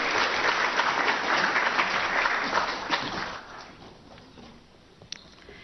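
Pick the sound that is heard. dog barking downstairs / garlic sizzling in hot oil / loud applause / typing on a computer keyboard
loud applause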